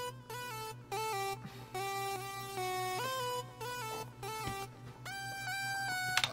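A bright synth lead from the Xpand!2 plugin plays a choppy, stepping melody in short repeated notes over a quiet steady pulse, loud and clear with no talking.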